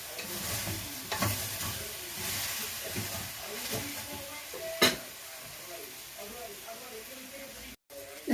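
Pork ribs sautéing with garlic and rosemary in a pan give a steady sizzle and hiss with stirring scrapes and a few sharp clinks throughout.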